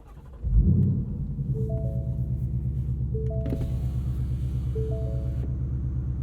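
A 2022 Ford Mustang Mach 1 with a manual gearbox and handling package cranks and fires up, settling into a loud, steady, deep idle rumble that continues throughout, close by and without talk.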